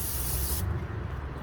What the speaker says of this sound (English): I'm gonna spray some WD-40 so you start loosening it up